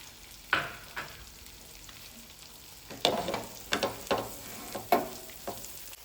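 Masala heating in coconut oil in a pan for a coconut-roasted pomfret fry, with soft sizzling and a few sharp scraping stirs spaced across the clip.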